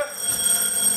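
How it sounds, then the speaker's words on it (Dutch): A telephone rings loudly and continuously with a steady electronic bell tone through the whole short moment, with no talking over it. "Kom op, neem die telefoon op."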